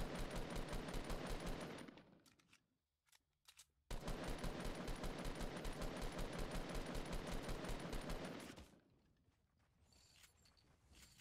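Rapid automatic gunfire in a shooting video game, loud sustained bursts of rattling shots that break off briefly near the two-second mark, resume, then fade into quieter ambience.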